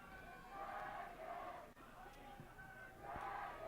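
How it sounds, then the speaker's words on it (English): Allderdice fans cheering at a high school boys soccer playoff game, a distant, faint crowd swelling in waves of shouts and cheers, with speech mixed in. "you can hear the Allderdice faithful they're cheering on excited, their man"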